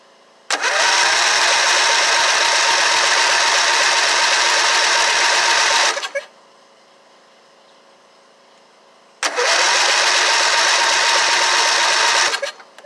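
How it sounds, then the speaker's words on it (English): A Craftsman LT1000 lawn tractor engine cranking with the choke on, two loud, close bursts of fast whirring starter churn, the first about five seconds long and the second about three, separated by a quiet pause, without catching. "We're going to hit it a few times. I got the choke on. We'll see if it cranks."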